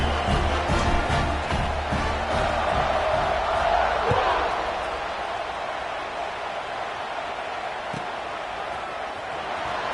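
Football stadium crowd at kickoff, a dense, loud roar of many voices that swells and then eases slightly, steady throughout, with a commentator's voice talking over it.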